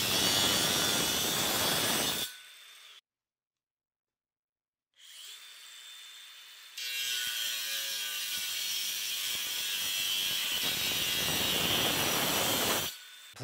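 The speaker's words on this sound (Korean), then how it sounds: "두 번째 충전 그라인더 실험에서는 와 이게 아예 다르더라고요. 돌아가는 것 자체가." A cordless DeWalt grinder on a Powerstack battery whirs loudly up close, runs briefly, goes silent for about two seconds, then spins again in a long, steady whine with a shifting motor tone before cutting off.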